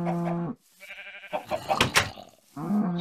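Sheep bleat in the blocky farming game Cluster Craft, two loud nasal bleats at the start and end framing a burst of clattering, rustling game noise in between.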